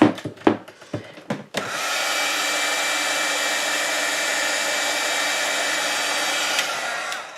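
Hair dryer drying a paper piecing background for a craft card, switched on after a few taps and clicks, then a loud steady blowing whir held close for several seconds, with no talking.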